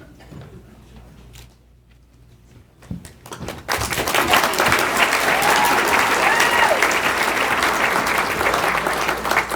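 Loud applause swells from a graduation ceremony audience after a quiet pause, dense clapping filling the hall and continuing steadily to the end.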